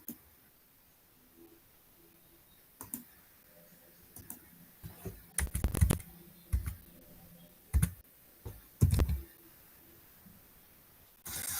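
A computer keyboard and mouse click in short, scattered bursts during an online data-analysis session, with a few louder thumping key presses near the middle, faint and close, in otherwise quiet surroundings.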